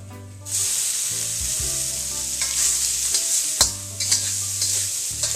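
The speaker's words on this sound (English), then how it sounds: "we're going to brown the garlic in 1 teaspoon of oil for a few seconds" Garlic and beef stir-frying in a teaspoon of oil for celery beef, a loud bright sizzle that jumps up at once and holds steady, with several clacks of a spatula against the pan.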